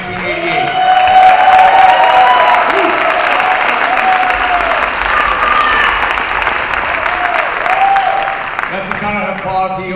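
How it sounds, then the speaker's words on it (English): A large audience applauds a high school hall of fame inductee in a hall, loud steady clapping that fills the whole stretch with a few voices and cheers mixed in. "That's the kind of applause he always received back in high school"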